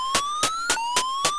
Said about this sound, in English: Instead, this game you have, I don't know what you have, you just have an alarm blaring.